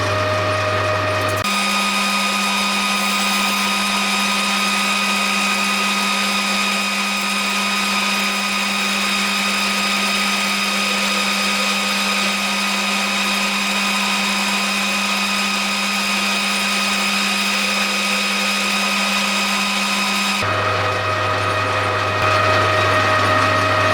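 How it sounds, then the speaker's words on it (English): Lathe facing and turning a cylindrical section on the end of an acrylic piece before threading, a steady mechanical hum and whine with a constant low tone, close and continuous, no talk. "all I'm going to do here is to face the end, try and get a cylindrical section machined on the end of it"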